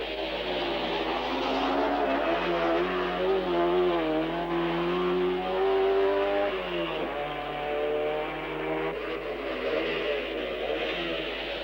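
Turbocharged Formula One race cars launch off the grid at the South African Grand Prix, a dense field of engines revving and rising in pitch together, loud and sustained with shifting tones as the pack accelerates away.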